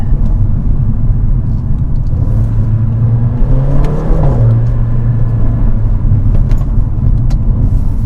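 A wrapped AMG Mercedes CLA engine idles with a steady low rumble, then revs up and settles back down once, loud and close, with no voices.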